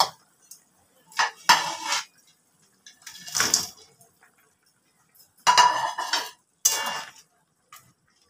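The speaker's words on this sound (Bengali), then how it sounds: "এবার আমি ধোকাগুলো সব এর মধ্যে মিশিয়ে দিচ্ছি" Dhoka pieces stirred into boiled potato curry in a pot, several separate bursts of metal spoon scraping and clinking against the pot with quiet gaps between them.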